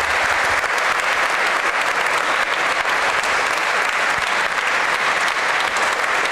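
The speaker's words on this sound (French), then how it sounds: "certainement un applaudissement de l'Assemblée" A church congregation at a diaconal ordination Mass applauds, steady dense clapping from many hands filling the space, loud and continuous with no voices standing out.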